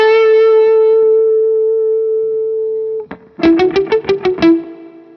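A softly played electric guitar through a Flint amp's spring reverb: a long sustained note rings out and decays, then a quick run of six or seven plucked notes follows, each with a splashy, echoing tail.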